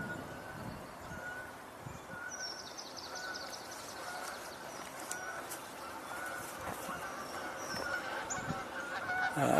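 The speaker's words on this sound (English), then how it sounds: "Sounds like some geese in the air." Geese honking in the air overhead, a series of repeated nasal calls drifting at moderate distance over a windy outdoor background, growing slightly louder toward the end.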